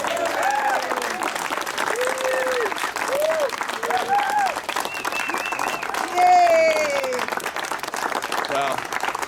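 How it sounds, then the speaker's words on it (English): A large audience gives a standing ovation at a film event, sustained applause filling the hall while whistles and cheers rise above it and voices mix in. "Can we all give a standing round of applause for our day and for..."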